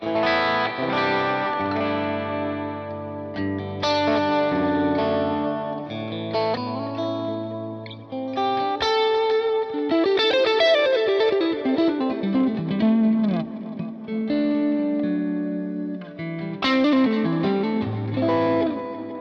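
Distorted electric guitar through an amp simulator plugin plays a sustained lead melody with chorus and reverb effects, loud and continuous with no talking.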